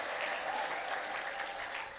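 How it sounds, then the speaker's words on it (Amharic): A church congregation applauds together for the Lord, producing dense, continuous clapping that fills the whole moment at an even loudness, with no individual claps standing out. "እስቲ እግዚአብሔር ታማኝ ነው የምትሉ ብቻ አጨብጭቡ ለጌታ።"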